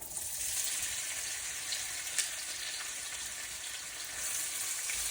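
Two thinly sliced medium onions fry in oil with a steady, soft hiss and crackle throughout, a gentle continuous sizzle with no talking over it.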